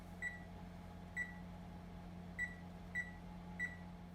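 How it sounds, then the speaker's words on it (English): Five short electronic beeps from oven timer buttons being pressed, spaced irregularly over a steady low appliance hum, close and moderately loud with no talking. "press the timer button right there and press the up until you get to 8 minutes"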